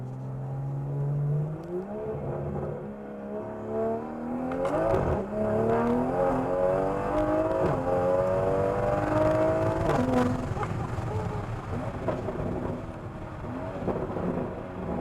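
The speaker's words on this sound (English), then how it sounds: "That exhaust is so perfect. it fits the car so well, man." A Toyota GR Corolla with an aftermarket exhaust accelerates, its note rising through the revs in a loud, close drone with a brief shift partway through, then holding a steady rasping roar.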